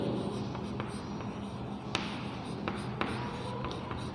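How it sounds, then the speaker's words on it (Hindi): A pen writes an answer on paper, giving a continuous soft scratching with occasional light taps as strokes begin, close and quiet with no talking. "हम यहाँ आंसर लिखेंगे।"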